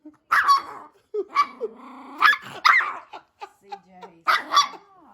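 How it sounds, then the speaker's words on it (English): A possessive dog barks, yips and growls in repeated bursts close by, loud and agitated, with people talking over it indoors. "He's a crazy demon dog."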